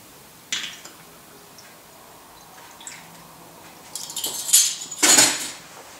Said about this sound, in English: Again, stirring.